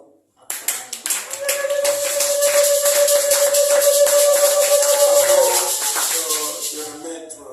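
A church congregation at a French-language worship service applauds together, producing a steady wash of rhythmic clapping that lasts several seconds. A sustained sung or held tone carries over the clapping.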